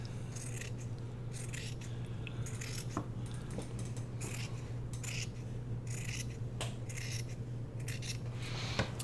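Scissors snip and rasp through fabric while trimming near a fold, a steady run of soft close cuts and rubbing sounds over a low background hum.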